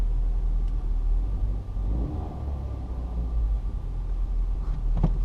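A Ford Fiesta ST180 engine runs with a steady, rough low rumble throughout, close to the microphone, with a faint knock or two near the end.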